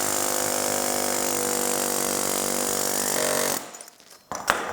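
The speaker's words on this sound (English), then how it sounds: "Air hammer and machete." An air hammer driving a machete into an electric motor to cut it open for copper scrap rattles in a loud, dense, continuous stream, then stops, leaving a few scattered knocks and clanks.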